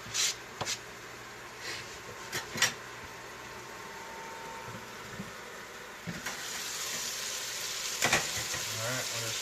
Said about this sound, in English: the bacon's coming along beautifully. You can hear it starting to get a nice, really nice sear